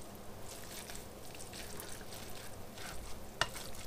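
Coleslaw of shredded cabbage, carrots and onion being stirred in a bowl, a soft, continuous wet rustling and swishing, fairly quiet, with one sharp clink near the end.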